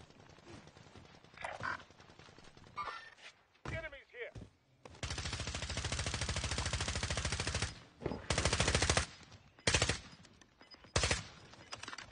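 XM4 rifle fire in a video game, sustained automatic bursts and separate short bursts, loud and close, with talk in between.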